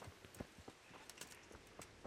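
Horse hooves from the medieval RPG Kingdom Come: Deliverance, a faint clip-clop of a horse arriving when called, several soft irregular hoof hits over quiet game ambience.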